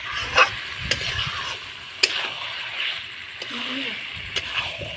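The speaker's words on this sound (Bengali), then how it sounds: "এখন এর মধ্যে মাংসটা দিয়ে দেবো। মাংস দিয়ে ভালোভাবে নাড়িয়ে নিতে হবে।" Mutton is stirred into oily spice masala in a pan for a village-style red curry, with scraping stirs and wet sizzling at close range while someone talks underneath.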